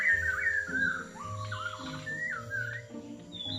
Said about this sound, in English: there is a strangely straggly looking shama on the forest floor